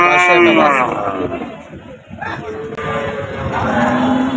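A Jersey cow lows loudly and close at a busy cattle market, a long drawn-out moo over the murmur of people talking nearby.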